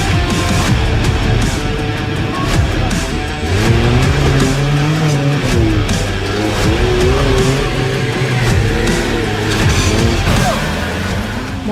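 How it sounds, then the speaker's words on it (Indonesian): Off-road cars grind through deep mud in Gorontalo, engines droning and revving steadily and loudly, with rising and falling pitch as they push through the wet track. "Mobil ditunggangi Rusli dan beberapa off-roader sempat terjerembab ke dalam kubangan lumpur dan terpaksa harus ditarik oleh mobil lain"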